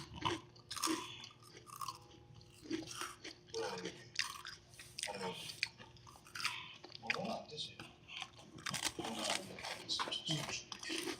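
Garlic bread being eaten up close, with crunchy bites and wet chewing repeated throughout, mixed with background voices and household noise.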